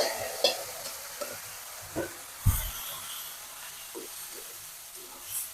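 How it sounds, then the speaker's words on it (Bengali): Malabar spinach fruit fries with cumin in hot oil, a soft sizzle broken by scattered clunks and scrapes of a spoon stirring the pan, with no talking. "দিয়ে এখন আমি পুঁই শাকের ফলটা দিয়ে দিব।"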